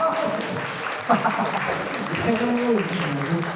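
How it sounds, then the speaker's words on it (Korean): A small group applauding at a dinner gathering, brief clapping mixed with voices talking over it. "박수 부탁드리겠습니다"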